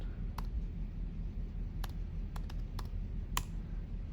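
Soft clicks of typing text on a computer keyboard, a few scattered keystrokes in a quiet room with a faint background hum.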